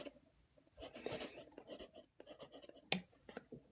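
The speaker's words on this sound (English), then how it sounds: "let's go ahead and mark these fibers in here with a pencil" A pencil scratches across a surface marking muscle fibers on an anatomy model, a series of quick, close, soft scraping strokes with brief pauses between them.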